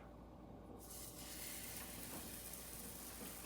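Millet masala roti set on a hot tawa, a steady sizzle that starts when it hits the griddle and carries on as a constant hiss.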